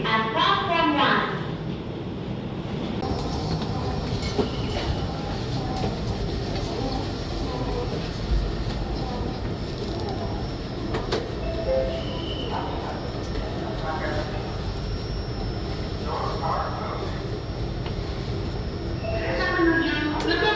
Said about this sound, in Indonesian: The train bound for Lebak Bulus is arriving at platform 1.